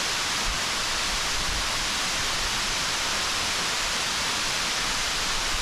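A waterfall near Kawaguchi Asama Shrine by Mount Fuji in Japan pours in a steady, dense, broadband rush, loud and unbroken throughout.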